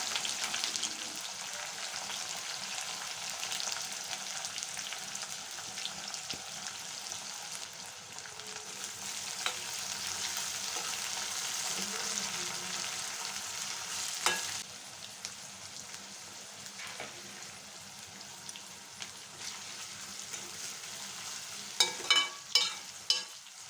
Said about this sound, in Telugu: ఇప్పుడు సన్నగా కట్ చేసిన ఎర్రగడ్డ పచ్చిమిరపకాయలు కూడా వేసుకుందాం